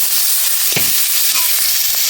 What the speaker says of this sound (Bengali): ভালো করে নেড়ে চেড়ে পেঁয়াজটা টমেটোটা ভেজে নেব।